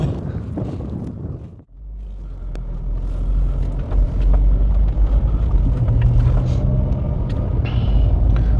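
A car pulls away after a brief pause, its engine and road rumble building to a steady, loud low drone that carries on to the end, with no talking.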